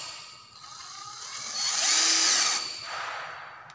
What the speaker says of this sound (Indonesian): setelah kita masukkan skrup yang tadi kita pasang lagi